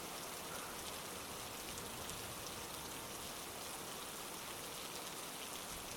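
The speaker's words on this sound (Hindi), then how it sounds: "इस बार बारिश जोर की है करीम भाई।" Heavy rain falls steadily and evenly, a dense unbroken wash of drops on surfaces, constant in loudness throughout with no voices.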